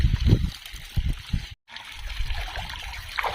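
Irrigation water trickles and gurgles close by in an uneven flow through a sugarcane field, cutting out briefly near the middle before resuming.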